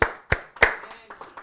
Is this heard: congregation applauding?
yes